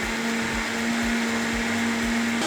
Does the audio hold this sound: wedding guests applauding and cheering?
no